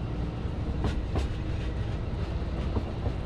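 Narrow gauge diesel train on the Třemešná to Osoblaha line, steady rumbling run with rhythmic clickety-clack of wheels over rail joints, close and continuous.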